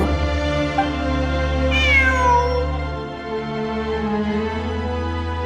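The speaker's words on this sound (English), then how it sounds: "I'm not hearing things. It really is a cat." A cat meows in the video game Genshin Impact, a drawn-out, wavering cry rising in pitch and then falling, heard over a steady droning game soundtrack.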